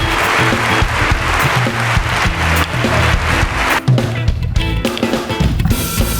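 A large crowd claps loudly and steadily, with music and scattered cheers mixed in.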